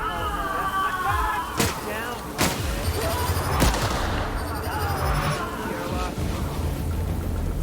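Sci-fi firefight in The Outer Worlds, with sharp gunshot bursts cracking out at irregular intervals over a dense, steady battle din while voices shout in the background.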